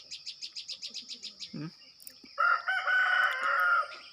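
A rooster crows in a rapid series of about nine short pulsed notes, followed by a low brief call and then a louder, sustained harsh crow lasting over a second, with no talk.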